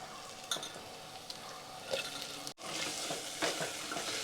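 Onions fry in hot oil and ghee with spices in a pan, giving a steady, close hiss and crackle while a utensil scrapes and stirs at intervals, with a brief dip in the sizzle midway; no talking.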